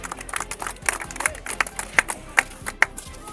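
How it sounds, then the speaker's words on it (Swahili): Scattered applause at an outdoor handball trophy ceremony after a boys' final, with sparse, uneven clapping that swells in short bursts and includes a few sharper individual claps, with no clear talk over it. "Makofi, makofi."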